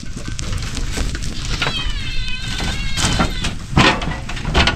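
A cat meows repeatedly amid loud, noisy surroundings with rustling and handling sounds, the cries drawn out and fairly close.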